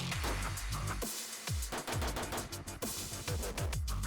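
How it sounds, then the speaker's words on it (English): Rapid rifle fire through a VG6 Precision Epsilon 556 muzzle brake: quick double and triple taps and strings of shots in dense, loud bursts outdoors, one shot crowding the next. "That quickly gave way to faster shooting, double taps, triple taps, mag dumps, all the sort"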